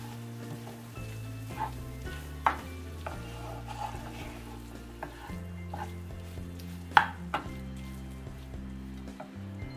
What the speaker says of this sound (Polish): Wszystko razem ze sobą mieszamy.